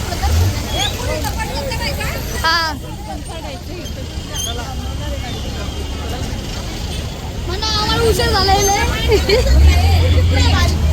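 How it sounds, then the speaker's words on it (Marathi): A large bus engine rumbles nearby as the bus arrives amid a busy crowd of chattering pilgrims on the Pune to Saswad wari walk, the rumble growing louder toward the end. "फायनली बस आली इथं"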